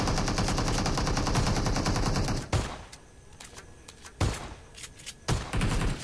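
Shotgun fire in PUBG Mobile's zombie survival mode: dense, continuous gunfire for the first couple of seconds, then three sharp separate blasts spaced about a second apart, loud and close.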